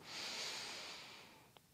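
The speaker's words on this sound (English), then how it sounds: "Inhale and then exhale" During a hatha yoga flow, a person draws one long, soft breath through the nose, a faint airy rush that slowly fades, ending in a tiny click, with no talking.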